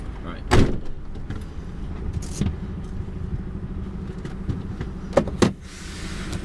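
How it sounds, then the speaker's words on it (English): Lorry trailer doors opened at night during a delivery stop: a sharp metallic clunk early on, another softer knock midway, then a pair of loud clanks near the end over a steady idling engine hum. "I'll stop here and open my doors a second"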